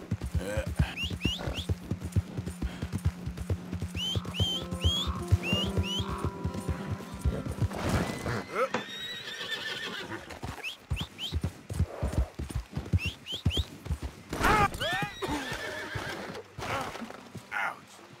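A horse in the Red Dead Redemption 2 video game neighs and whinnies several times over rhythmic clip-clop hoofbeats, with game ambience and occasional music underneath, loud and close throughout.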